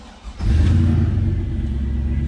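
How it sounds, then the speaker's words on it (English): A 1935 Ford Cabriolet street rod fires up from cold, its engine catching after a brief crank and settling into a deep, loud, steady rumbling idle close by. "that was a cold engine start"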